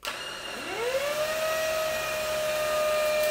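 A Lacidoll handheld cordless 4-in-1 wet dry vacuum cleaner switches on and spins up, its motor whine rising into a steady, loud, close tonal hum that holds alone without speech.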